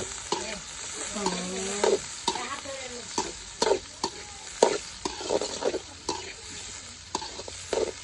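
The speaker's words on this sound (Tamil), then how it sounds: "ராகுல நல்லா வதக்கணும் நல்லா வதக்கணும" Chicken curry being sautéed in a pan, with a soft continuous sizzle broken by repeated sharp scrapes and knocks of a spoon stirring, the strokes coming at a loose, irregular rhythm up close and with no talking.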